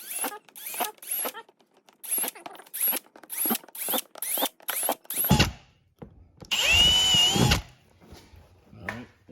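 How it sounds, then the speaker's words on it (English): A power drill whirs in a series of short bursts, about nine quick pulses, followed by a longer, louder sustained run near the microphone, drilling holes in a cracked car bumper. "so I'm going to drill 5 holes"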